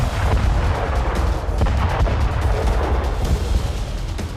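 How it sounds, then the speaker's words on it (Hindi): Mortar fire hits a base in a combat zone, with a string of heavy booms and blasts over a rumbling, noisy background, loud and repeated across the stretch, with no speech. "रूस के सैनिकों ने मोर्टार से यूक्रेनी सैनिकों के अड्डे को तबाह कर दिया"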